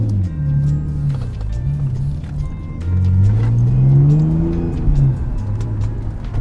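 A car engine revs and accelerates close by, its pitch climbing and falling through gear changes, loud and continuous.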